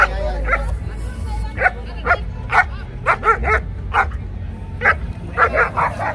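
A German Shepherd puppy barks and yips repeatedly at a dog show, with short bursts scattered over a noisy crowd background.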